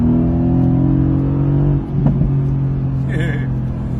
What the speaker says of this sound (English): Porsche Panamera in front of me.